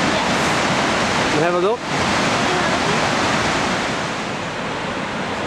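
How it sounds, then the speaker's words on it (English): Steady Brook Falls in Newfoundland, running with heavy flow, gives a loud, steady broadband roar of falling water that fills the whole clip, with a brief voice speaking over it partway through. "There's the bottom of Steady Brook Falls"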